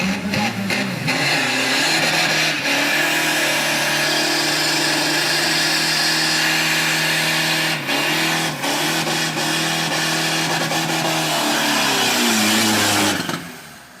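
A racing car engine revs hard to about 7,000-8,000 rpm and holds at high pitch, loud and close, with brief dips and climbs before dropping off at the end.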